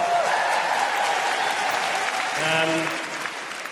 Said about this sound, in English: Can we have a round of applause for the BFC, please?